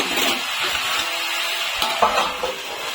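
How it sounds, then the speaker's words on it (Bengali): Mourola fish chochori with turmeric stirred in a pan, a close soft scraping and shuffling with faint sizzling, continuous for a few seconds. "আর দিচ্ছি হলুদ দিয়ে একটু নেড়ে চেড়ে ঢেকে দেবো"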